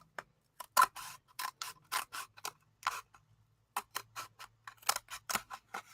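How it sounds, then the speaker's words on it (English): Close-up scissor snips cutting along drawn lines on a toilet paper roll in quick bursts, a steady series of crisp cuts broken by a brief pause before continuing. "I'm just cutting them with scissors down the line."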